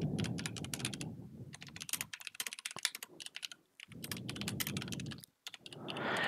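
Code typed on a computer keyboard: rapid, close clicking keystrokes in quick runs, broken by a few short pauses.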